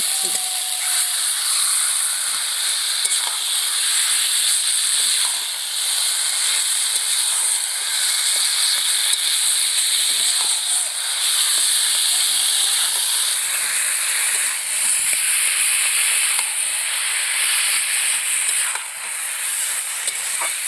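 Taro leaves added to sizzling masala in a pan, producing a loud, continuous hissing sizzle that holds steady with little change throughout.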